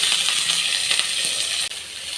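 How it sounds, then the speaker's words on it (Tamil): Shallots and garlic sauté in a kadai for chutney, giving a continuous bright sizzling hiss with a brief dip near the end, close and fairly loud with no talking. "இந்த சின்ன வெங்காயம் கட் பண்ணி வச்சுருக்கோம்னா அதை போட்டு நல்லா வதக்கிடலாம்"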